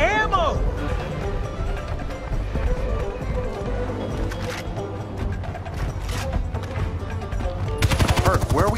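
Gunfire ripping out during a drive in the video game Far Cry 4, dense bursts layered over engine rumble and game music, with voices talking throughout and a sharp clattering volley near the end.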